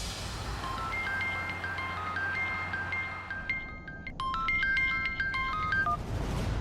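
A melodic electronic phone ringtone plays in a repeating pattern of beeping tones over a low background hum, growing busier toward the end.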